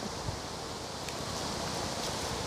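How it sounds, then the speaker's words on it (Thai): Strong wind blows outdoors in Finland on a cool autumn day while berries are being picked, a steady close rushing buffet of air with faint rustling and no voices. "ลมแรงมากเลยทุกคน"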